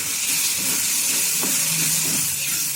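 Garlic and tomatoes sauté in a pan for a spicy dry fish gravy, giving a dense, constant hiss of frying up close, with faint low stirring knocks beneath and no speech.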